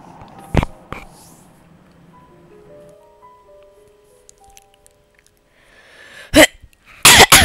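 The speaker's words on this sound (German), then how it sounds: "Und es reicht schon, dass ich mit meiner Krankheit die ganze Zeit husten muss" A person coughs sharply twice, then again in a harsh cluster of coughs a few seconds later, loud and close over faint electronic game music, with no talking.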